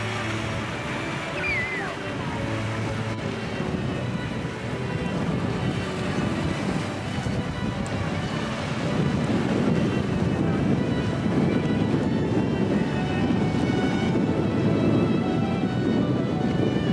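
Strong wind on a beach on Maafushi island in the Maldives roars steadily into the microphone, a dense, continuous rush that grows slightly louder toward the end, with sea and surf blended underneath.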